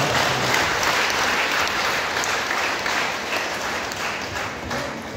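Audience applause, a dense and steady wash of many hands clapping that stays loud throughout and eases slightly toward the end, with no clear speech over it.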